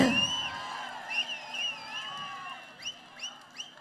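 A political rally crowd in Madurai South cheers with loud, sweeping whistles, repeated sharp whistle bursts over a steady background din of voices.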